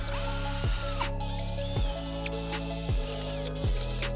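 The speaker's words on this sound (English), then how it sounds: "We're just gonna drill a small hole right now to use as a pilot hole." A power drill whirs steadily while drilling a small pilot hole in a Honda CR, its pitch dropping in short bursts about every second as the bit bites into material, close and loud.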